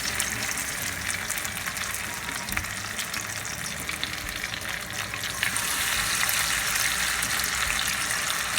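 Potato pancakes frying in a pan, a steady close sizzle and crackle of hot oil that runs without a break and grows slightly louder partway through.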